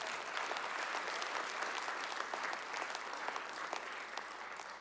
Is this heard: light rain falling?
no